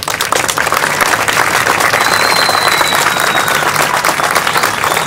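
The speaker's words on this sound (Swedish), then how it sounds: "Så jag vill att ni tillsammans med mig ger min crew en varm applåd för att de har ställt upp." Crowd at an end-of-season Swedish car meet applauding the crew, a dense, steady wash of clapping that holds loud and close throughout with no break.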